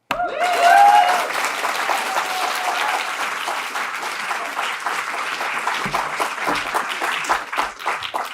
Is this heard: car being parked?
no